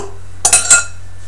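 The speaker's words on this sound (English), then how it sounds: "I'm going to switch over to my fork just to make sure all my lumps are mixed in also." A fork mixes gluten-free bread batter in a bowl, giving two quick bursts of scraping and clinking against the bowl, close and fairly loud, with quiet before and after.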